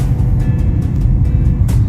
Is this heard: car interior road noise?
yes